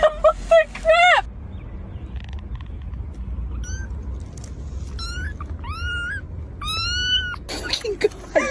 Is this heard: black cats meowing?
yes